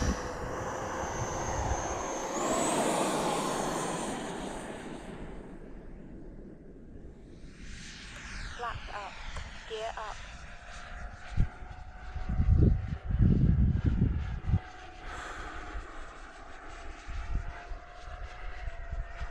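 An Arrows F-15 model jet flies on its second flight, its engine roaring and whining with shifting pitch as it passes, sometimes nearer and louder, sometimes farther and fainter.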